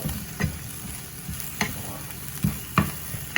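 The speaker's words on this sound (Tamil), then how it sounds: "இப்போ வந்து பாருங்கள் இந்த எல்லாத்தையும் சேர்த்து கிளறுங்கோ" Cabbage and egg stir-fry being stirred in a pan, low sizzling under a few irregular scraping knocks of the spoon, close and fairly quiet, with no voices.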